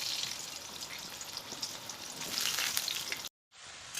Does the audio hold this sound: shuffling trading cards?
no